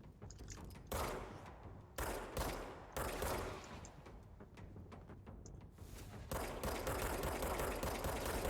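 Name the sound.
gunfire in a video game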